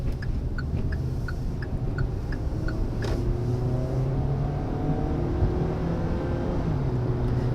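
A 2019 Kia Sorento LX with a 185-horsepower four-cylinder accelerates onto a highway, heard from inside as a steady, moderate engine drone under road noise, with a brief ticking at the start and no talk.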